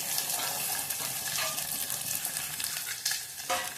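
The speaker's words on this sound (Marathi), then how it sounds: "ते तेलात चांगले भाजून घ्यायचे आहे" Fresh pavta beans frying in oil in a pan, a dense close sizzle with scraping stirs and a few sharper crackles, no voices.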